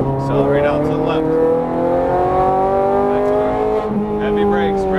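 A Ferrari F430 Scuderia accelerates hard around Las Vegas Speedway, its engine note climbing in pitch, dipping briefly at a shift, then rising again, with an instructor's voice over it.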